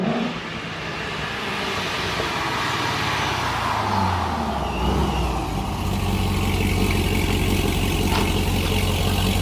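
A loud, heavily modified C6 Corvette fitted with a TiAL 50mm blow-off valve revs up from a deep idle, its engine note rising and falling before settling back into a steady throaty rumble.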